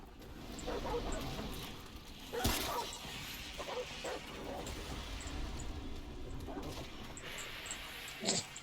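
A dog in the video game Remnant: From the Ashes gives repeated yips and barks scattered over several seconds, mixed with game noise and a sharp crash near the middle, with a person talking intermittently.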